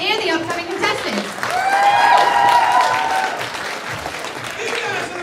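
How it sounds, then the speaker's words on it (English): A cosplay walk-on crowd applauds and cheers for staff and contestants, sustained clapping with whoops and a voice speaking over the noise. "So another round of applause for our staff and the upcoming contestants"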